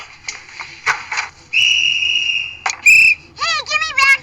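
A whistle blown in a comedic skit gives a long, loud, shrill blast, followed by shorter sharp toots and warbling chirps at close range.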